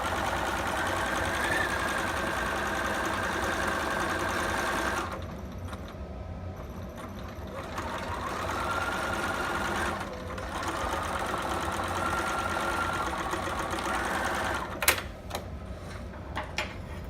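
A sewing machine stitches a zigzag seam with a quarter-inch allowance on a baby sitter outfit, humming close and loud through long runs that briefly slow and pause, ending in a few clicks.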